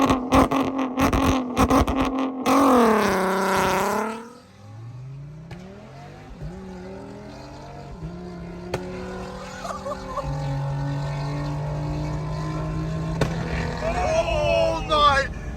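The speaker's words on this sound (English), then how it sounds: "we're in an RS3 with basically no exhaust, and you can't even hear what I'm saying." An Audi RS3 with essentially no exhaust revs hard from inside the cabin, loud raspy bursts followed by a long rising and settling engine drone, with people talking over it.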